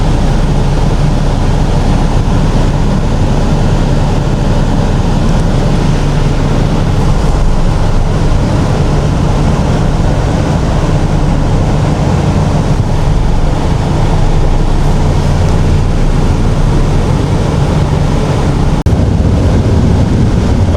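A ferry crossing from Dubai to Sharjah carries a loud, constant rush of wind and water over the microphone, and the engine rumble and wave wash continue without a break.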